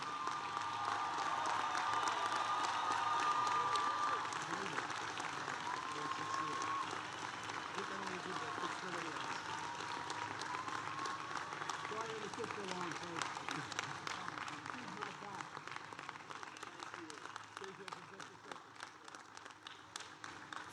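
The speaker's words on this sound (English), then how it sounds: "Let's give the President one more round of applause." A large audience claps steadily after a presidential speech at the University of Delaware, sustained applause with some crowd noise that slowly thins and fades over about twenty seconds.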